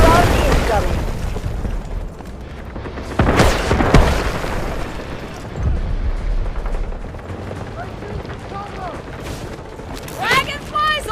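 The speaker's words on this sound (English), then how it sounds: "Artillery barrage incoming." An artillery barrage pounds a battlefield in the shooter game Delta Force, with several heavy booms and rumbling impacts spaced out among gunfire. Voices speak between the blasts.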